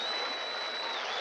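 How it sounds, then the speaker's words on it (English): Park crowd at a gala balloon celebration, a faint, distant, steady roar of clapping and cheering that holds evenly with no distinct voices. "And listen to that crowd cheer."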